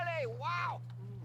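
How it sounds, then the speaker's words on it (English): A Sims character whistles in The Sims 2, a brief rising-and-falling wolf-whistle-like tune over a low steady game hum, quiet and close. "And he's whistling at her sister,"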